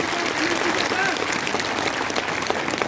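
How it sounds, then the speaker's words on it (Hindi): An audience at a school education event in Baramulla district, Kashmir, claps loudly and steadily throughout, a dense wash of applause with no pause. "फिर से जोरदार तालियां।"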